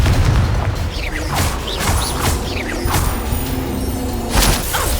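A fire blast spell cast during combat in the video game Hogwarts Legacy, heard as repeated booming bursts with whooshing sweeps over a dense, loud battle din, no voices.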